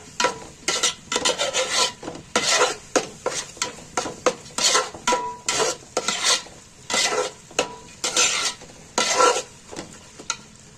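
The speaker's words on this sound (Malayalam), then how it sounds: "നല്ലോണം ഒന്ന് മിക്സ് ചെയ്ത് കുറച്ചുകൂടെ ഒന്ന് ഫ്രൈ ആവാനുണ്ട്" Spiced tomato rice masala frying in ghee in a pan, stirred with a spoon: rhythmic scraping strokes about once a second, close and clear, with no voices.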